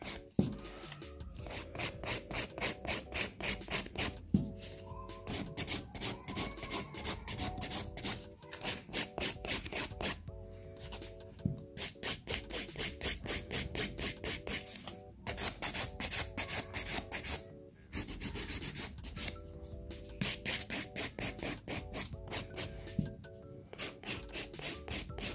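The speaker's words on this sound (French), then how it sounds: "j'ai limé ma démarcation une fois que j'ai plus de brillance entre mon ongle naturel et ma capsule" Rapid rhythmic rasping of a nail file across a gel capsule nail extension at the demarcation with the natural nail, close and steady in repeated bursts with short pauses between strokes.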